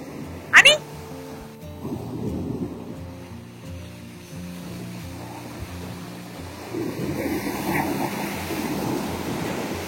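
Ocean waves washing up on a South Carolina resort beach, a soft surging wash that swells toward the end, heard under people talking, with a brief loud clatter near the start.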